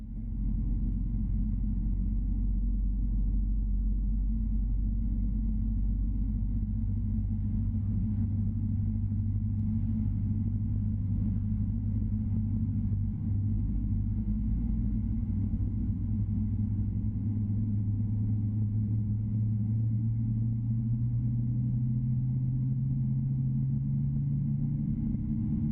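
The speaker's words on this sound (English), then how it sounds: "Let's enjoy that startup sound from here." A Boeing 777 jet engine spools up during startup on the ramp in Microsoft Flight Simulator 2024, a steady low rumble with a tone slowly rising in pitch, sustained and even throughout with no voices.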